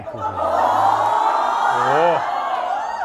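A studio audience at a Thai late-night talk show screams and shrieks excitedly in a sustained, wavering burst of high voices, with the host's voice running underneath.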